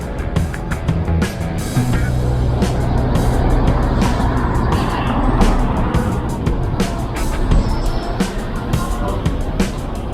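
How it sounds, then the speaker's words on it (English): Street traffic in the Haight-Ashbury district of San Francisco, with a self-driving car and a large bus rolling past, a continuous engine rumble swelling and easing over ten seconds alongside scattered clicks and knocks of street activity. "One of the self-driving cars and a big bus you don't want to get in front of."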